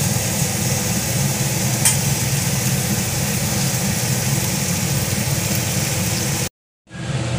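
Chicken curry sautéing in a pan, with a steady, dense sizzle and hiss running continuously and close, cutting to silence briefly near the end before resuming.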